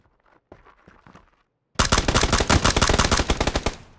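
A sudden, loud burst of rapid automatic Uzi fire rattles after a few quieter thumps in PUBG, a fast continuous string of close shots.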